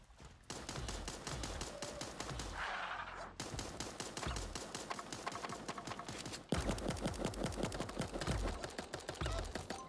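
Rapid bursts of automatic gunfire from Super Animal Royale, a cartoon animal battle royale shooter, rattle on continuously and loudly throughout, with a brief gap before the shooting resumes even louder.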